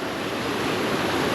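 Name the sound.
strong flowing stream water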